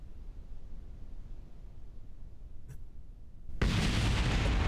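An ornithopter crashes and explodes in Kerbal Space Program, a sudden loud burst of noise that cuts in near the end after a quiet, low rumbling stretch with a faint brief whoosh.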